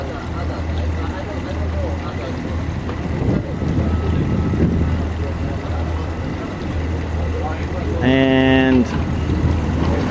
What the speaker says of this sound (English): I call them motors, they're outboard motors.